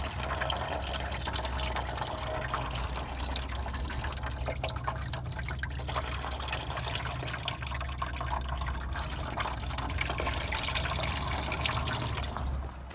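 Steady, continuous rush of water flowing during a coolant flush on an Acura Integra, a dense unbroken wash of sound at moderate level with no pauses until it fades at the very end.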